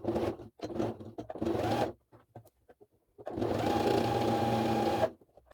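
A sewing machine stitches a pocket onto a drawstring bag through thick fabric, running in three short loud bursts, pausing with faint handling noises, then one long steady close run before stopping.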